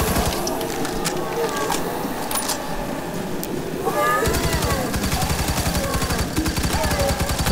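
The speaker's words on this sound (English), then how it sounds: "so I'm gonna pull out my assault rifle then." Rapid assault rifle fire from the video game Firefall, bursts of quick repeated shots under game noise and someone talking, growing denser and steadier in the second half.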